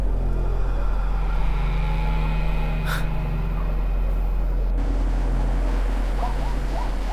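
A car drives at night along a deserted road in an animated horror story, its engine a steady, unbroken low drone from start to finish with no voices over it.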